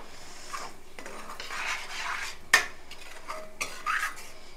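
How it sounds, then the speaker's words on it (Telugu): A spoon scrapes and rubs around a pan as egg is mixed into a dish, with one sharp metallic clink and a few softer knocks over a quiet background. "ఎగ్ అయితే వేసేస్తున్నాను. ఇది ఒకసారి బాగా కలపాలి."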